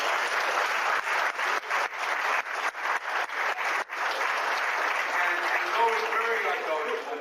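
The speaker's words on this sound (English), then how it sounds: "I'd like you all to give a round of applause" A room of attendees at a 1993 Las Vegas casino chip collecting club show breaks into sustained applause for a club member, the dense clapping steady and close with slight rhythmic pulses throughout.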